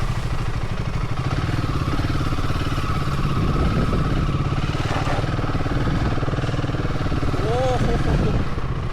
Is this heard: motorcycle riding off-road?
yes